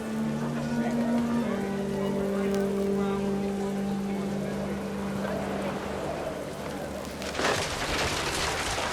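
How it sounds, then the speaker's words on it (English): Heavy rain pours down in the video game What Remains of Edith Finch, a steady hiss of falling water under sustained low tones, with a brief louder burst near the end. "rain came down in buckets then"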